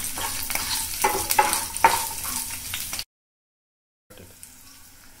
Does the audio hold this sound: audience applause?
no